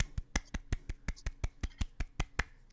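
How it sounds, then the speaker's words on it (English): Soft, quiet golf clap, a dozen light evenly spaced claps in a steady rhythm, close and low in level, with no talk over them. "I give you the golf clap."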